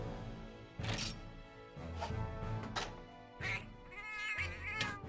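A Palico cat in the video game Monster Hunter 4 Ultimate gives a run of short meows, four or five distinct cartoonish mews spaced out in quick succession, fairly quiet, with no talk.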